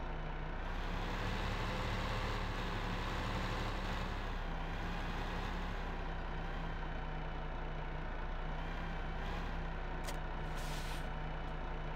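Tractor engine in Farming Simulator 2015, on the North Brabant farm map, rumbling steadily at close range with a continuous low drone and a hiss near the end, no talking.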